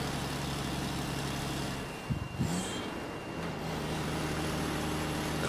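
A classic 1973–74 Scammell twin-steer lorry, M registration, rumbles steadily past on a road run, its engine drone dipping briefly with a short hiss before resuming.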